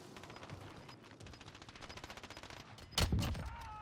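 Gunfire from Call of Duty: Warzone, a rapid run of shots through the first three seconds, then a single loud, close, heavy sniper rifle shot that rings out at the end, with no talking.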